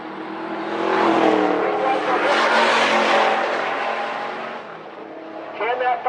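Drag race cars, a Pontiac Firebird and a 1972 Chevrolet Nova, run in the finals at Rocky Mountain Race Week. Their engines roar and swell loudly down the strip, then fade, with an announcer talking over the racing.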